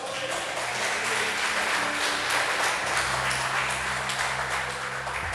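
Church congregation applauding during a sermon, a broad steady wash of clapping with a sustained organ or keyboard chord ringing underneath throughout.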